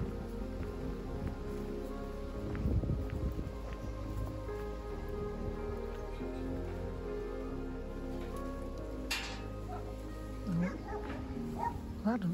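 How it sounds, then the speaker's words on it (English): A tied-up dog barks now and then at middle distance in Ystum Cegid Isaf, Gwynedd, with rain pattering steadily throughout and a steady background hum. "We're approaching the barky dog."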